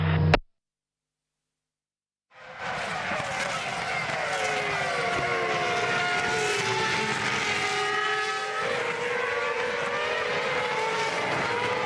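Formula One cars racing at the 2006 Indianapolis Grand Prix, high-pitched engine whine sweeping up and down as cars pass, loud and continuous after a short silent gap, with no talk.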